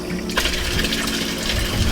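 Water pump in a home aquaponics system, recirculating water; a steady close gush of flowing, splashing water that runs continuously throughout without speech.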